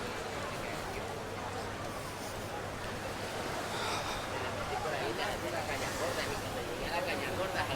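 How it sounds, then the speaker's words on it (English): Steady sea breeze blowing at the seaside in Torrevieja, a continuous broadband rush of wind with a surf-like wash, fairly loud and close to the microphone throughout, with no distinct voices. "That little sea breeze."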